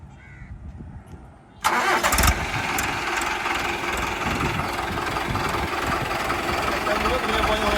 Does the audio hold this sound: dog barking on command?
no